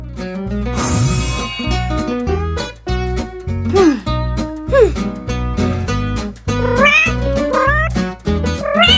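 A cat meows loudly and close by, giving a run of drawn-out, wavering meows and caterwauls that rise and fall in pitch with only brief pauses.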